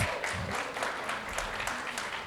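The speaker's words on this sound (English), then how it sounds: "let's give Cavette and her daughter a big round of applause" Applause from a gathered crowd at a ribbon cutting for an affordable housing building, steady continuous clapping heard at moderate distance and fairly faint, with a low background rumble throughout.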